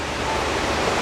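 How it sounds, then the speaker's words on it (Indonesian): Efrata waterfall on Samosir, a steady broad roar of falling water, even and enveloping with no voices, lasting only a moment. "sudah sampai di air terjun Efrata"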